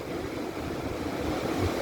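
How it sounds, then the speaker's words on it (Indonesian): Steady wind rushes over the microphone on Suwuk beach in Kebumen, a continuous broadband roar with low rumbling gusts and the wash of surf beneath, no voices. "angin berembus begitu sepoi-sepoi"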